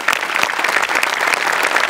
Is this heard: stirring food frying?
no